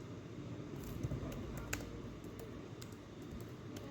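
Soft keyboard keystrokes tapping in quick irregular bursts while an online scholarship application form is filled in, faint and close over steady room hum.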